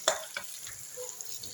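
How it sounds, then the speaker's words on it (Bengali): Sliced onion hits hot oil in a pan, giving a sharp sizzle burst followed by a few stirring scrapes over a steady close frying hiss, with no talking. "এবার এই তেলে পেঁয়াজ দিয়ে দেবো।"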